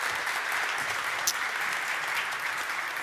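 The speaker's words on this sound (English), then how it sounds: "Give him a warm applause." Audience applause welcoming a speaker to the stage at a digital governance event, a dense, steady clapping from a crowd that carries on evenly for a few seconds without voices.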